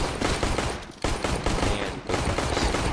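Loud, rapid gunfire from a Counter-Strike match, with automatic bursts that run almost without a break and pause only briefly about once a second.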